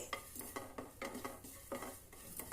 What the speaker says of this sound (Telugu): ప్యాన్ పెట్టుకొని ఇందులో ఒక స్పూన్ నువ్వులు వేసుకొని లైట్గా దోరగా వేయించుకోవాలి